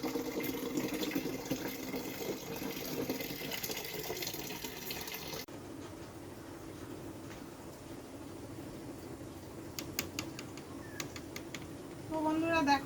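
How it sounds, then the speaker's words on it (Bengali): Water runs steadily into a bucket at a rural home, making a continuous, moderate rushing and splashing. The tone changes partway through as the bucket fills, and a few faint background chirps come in near the end. "চলো বালতিও বসিয়ে দিয়েছি, এখানে আস্তে আস্তে জলগুলো ভরুক"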